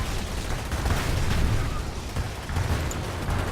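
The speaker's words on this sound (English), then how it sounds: "We should have the guns being able to fire." Dense, continuous battle noise of guns firing and explosions in the video game Command and Conquer 3, a steady loud rumble with scattered bursts throughout and no clear talk.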